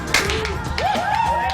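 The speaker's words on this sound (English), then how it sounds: "Big round of applause for the singing coyote from Jersey." A crowd applauds a singer known as the singing coyote from Jersey during the making of El Bar Coyote. Brisk clapping runs throughout at moderate level while a voice talks or sings over it.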